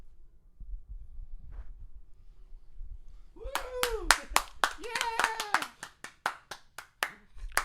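Audience clapping at the D23 Experience Showcase: scattered steady claps in an even rhythm come in after a quiet start, with a voice calling out over them.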